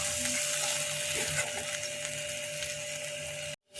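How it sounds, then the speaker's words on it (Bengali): Masala for a cashew and poppy-seed paneer curry being stirred in a pan, a steady broadband sizzle with faint scraping and a constant hum throughout, cutting off abruptly near the end. "ভালো করে নাড়াতে থাকছি।"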